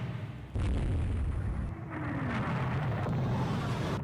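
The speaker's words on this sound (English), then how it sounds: "Okay, more missile hits." Missile strikes in the naval strategy game Rule The Waves 3, a loud sustained roaring blast with a sharp onset, rumbling on and then surging again, with no voices over it.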